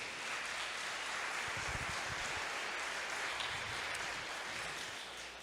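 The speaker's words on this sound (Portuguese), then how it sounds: "Vamos aplaudir ao Senhor por isso" A church congregation applauds during a Portuguese-language sermon: a steady, dense wash of clapping that sounds soft and somewhat distant, holding without pause for several seconds with no voices over it.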